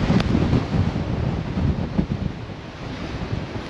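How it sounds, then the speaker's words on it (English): Strong wind buffets the microphone in a steady, rumbling roar with gusty surges, outdoors and close in Ullapool, Scotland. "A little bit windy out today."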